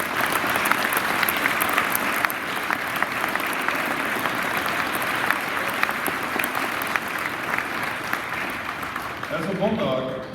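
Audience applause at a veterans assembly rolls on as steady, fairly loud clapping from a crowd in a hall. It holds for about ten seconds, and a voice begins speaking as it fades at the end.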